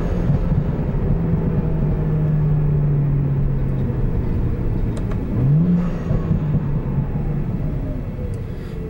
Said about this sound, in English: Hear those burbles, baby?